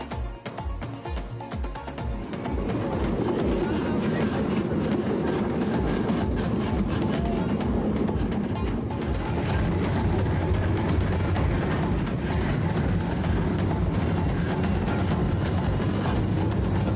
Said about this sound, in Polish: wybraliśmy się w tę podróż, wypełnioną jazgotem i zgrzytem.